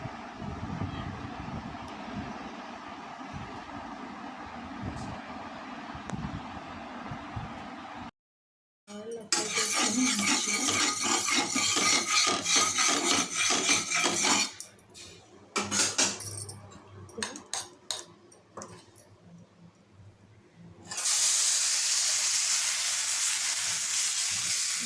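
Oats dosa batter is poured onto a hot griddle and spread into a round, bringing bursts of crackling sizzle and scraping between quieter stretches, then a steady hiss near the end.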